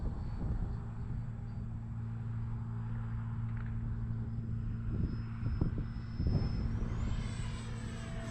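E-flite Viper RC jet flying at full speed on a windy day, a faint steady whine over low wind rumble, with the pitch rising sharply toward the end.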